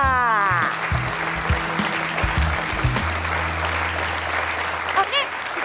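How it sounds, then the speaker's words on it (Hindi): An audience at a children's New Year party claps right after a dance is announced, a full steady burst of applause that starts over a fading music sting and holds for several seconds, with a brief tonal chime near the end. "तालियां!"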